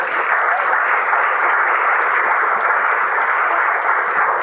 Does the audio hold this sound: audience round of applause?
yes